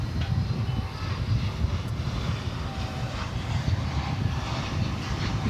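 A Boeing 787 jet aircraft at DFW Airport at night, a continuous broadband roar of engines that holds steady and moderately loud throughout, with no talk.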